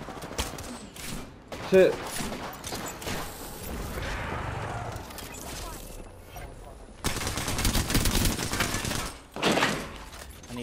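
Gunfire in the video game Apex Legends, including sniper shots, with bursts of shots and loud impacts scattered across the clip under in-game noise and a brief spoken word.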